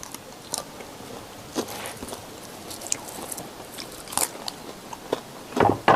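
Crispy barbecued beef rib, cooked Argentine costillar a la cruz style, crunching in a few sharp close bites over a quiet outdoor background, with a louder burst of crackly crunching near the end.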